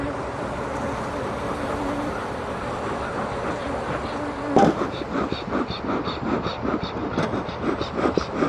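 Honey bees swarm around a large hive, a dense continuous buzz filling the air close by. A sharp knock or bump lands partway through, followed by brief pulsing activity.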